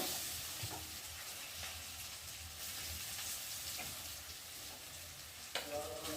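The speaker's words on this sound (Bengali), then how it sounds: "দেখো আমি একসাথে ভালো করে কষিয়ে নেবো" Soybean chunks and potatoes with spices sauté in a pan for a vegetarian soybean curry, giving a steady, close sizzle with soft scraping stirs throughout and a sharper clatter near the end.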